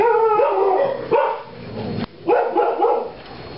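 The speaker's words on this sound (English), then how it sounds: "Ignore the dog's barking." Dog barking repeatedly in a kitchen while cooking is underway, several loud close barks and yips in quick bursts with brief pauses between them, no talking.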